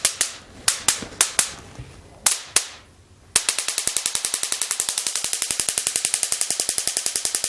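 A DC 3V-6V to 400kV high-voltage boost module arcs with sharp snapping sparks, first several separate loud cracks, then a rapid, continuous train of ticking discharges close by.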